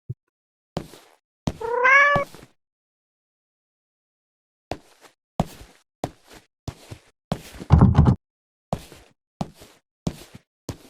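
A cat meows once in the video game CLINK, a short rising-and-falling call standing alone against silence, followed by a scatter of soft knocks, thuds and footstep-like clicks.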